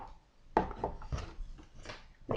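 Brown bread ground bait mixed by hand in a bowl, giving soft crumbly rubbing and scraping sounds in irregular bursts, close and fairly quiet, with no talking.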